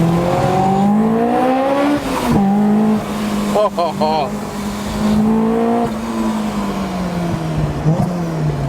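A modified Honda Civic Type R EP3 engine revs hard and climbs in pitch through several gear changes, loud and close from inside the cabin, with people talking over it.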